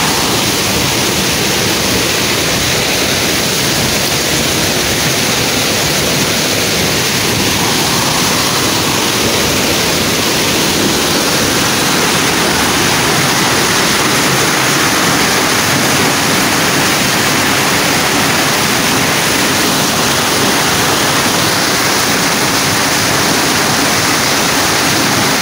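Alegria Falls in Surigao del Norte pours in a loud, unbroken roar of rushing water, steady and close throughout with no voices.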